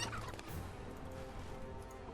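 A chicken thrown in the fantasy strategy game Age of Wonders III, a brief fowl squawk and gobbling cluck at the start, fairly quiet over a steady game backdrop, with no voices.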